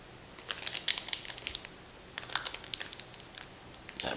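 Vintage 1984 Topps trading cards being pulled from a crinkly wrapper, giving soft, scattered crackles and crinkles in irregular bursts up close, fairly quiet, with no talking.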